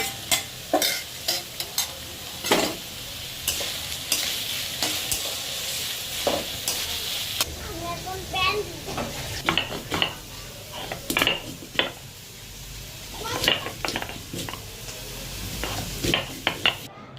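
Already-fried potatoes sizzle as they go into a hot pan of banana flower curry while a utensil scrapes and stirs repeatedly, with frequent clinks against the pan and a constant frying hiss.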